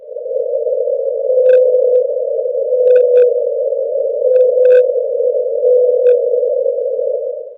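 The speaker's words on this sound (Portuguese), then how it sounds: "Mas a canção dessa baleia, tocada na mesma velocidade, soa dessa forma." A sustained low tone of the solitary 52-hertz blue whale's song, played back at real speed, drones steadily and loudly throughout, with faint brief higher chirps scattered over it.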